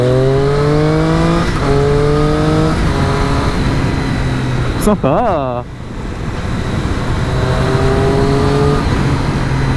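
A Triumph 660S motorcycle, ridden with an A2 licence restriction, revs up through rising engine pitches with gear changes, loud and close, while a rider speaks briefly over the engine.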